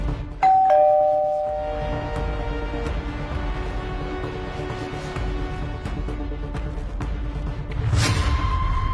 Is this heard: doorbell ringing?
yes